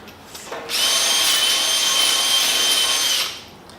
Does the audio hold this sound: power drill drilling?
yes